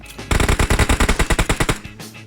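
Rapid automatic gunfire from a PUBG Mobile match, a loud close burst of about twenty evenly spaced shots in quick rhythm, with no talking over it.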